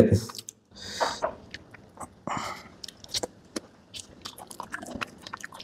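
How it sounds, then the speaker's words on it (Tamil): Crunchy bites into raw onion alternate with soft chewing while ragi kali (finger millet balls) is eaten with a vegetable side dish, close and intermittent, with a few quiet mouth clicks between bites. "கூடவே இந்த வெங்காயத்தையும் கடிச்சிக்கிறது"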